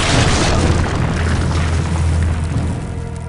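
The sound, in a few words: flare gun firing, from Wild Grinders video game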